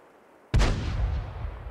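A single heavy tank cannon shot booms out in an armored combat video game, a sudden loud blast with a long rumbling decay and no talk over it.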